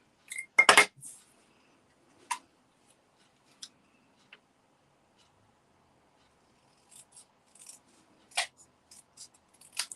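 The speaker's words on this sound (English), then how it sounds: "And then all I'm going to do is trim this down." Scissors trim a paper card in a few sharp, separate snips spread across an otherwise quiet stretch, close and crisp, with one louder cluster of cuts near the start.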